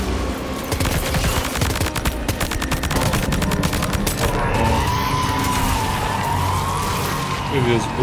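Rapid automatic gunfire firing rubber bullets in the video game Death Stranding 2, loud bursts of dense crackling shots running continuously, mixed with game ambience and engine-like drones throughout.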